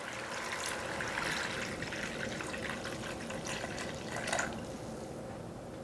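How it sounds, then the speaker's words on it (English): Water poured into a pan of stewing chicken for Southern stew fried chicken, a steady close trickling and filling sound with a brief louder splash near the end, no talking. "add more water about halfway up the chicken"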